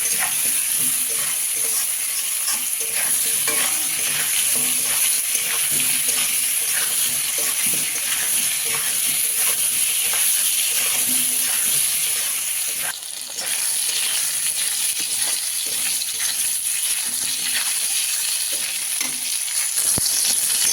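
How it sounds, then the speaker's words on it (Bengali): Potato and brinjal pieces fry with turmeric and salt in a pan, giving a continuous close sizzle that stays steady throughout with no talking. "আলু বেগুনটাকে ভালো করে একটু ভেজে নেব।"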